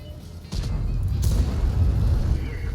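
An artillery shell explodes in a tank video game, giving a deep, loud boom that rolls into a sustained low rumble lasting a couple of seconds.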